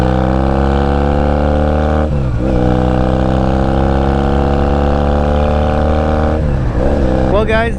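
A Honda Rebel 250 motorcycle with a makeshift, loud exhaust drones steadily while riding, its engine tone dipping and rising through two gear shifts.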